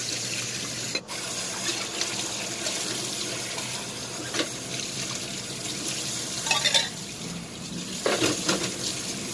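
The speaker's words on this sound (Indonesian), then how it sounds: "Bilas dulu seperti ini ya guys" Tap water runs steadily into a kitchen sink as dishes and chopsticks are rinsed, a continuous close splashing hiss with occasional clinks and shifts in the flow.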